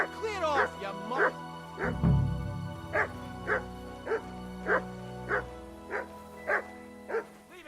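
A dog in Kingdom Come: Deliverance II barks again and again in an even rhythm, close and clear, after a brief low rumble near the start.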